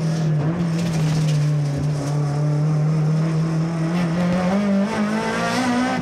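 A BMW M3 E30 rally car's engine screams near 8000 rpm, a loud, close, steady high-revving drone that climbs slightly in pitch, with faint tire noise underneath.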